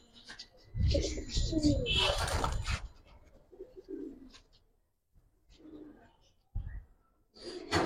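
Silver punky pigeons cooing in soft throaty bursts, close by, with someone talking over and between the calls.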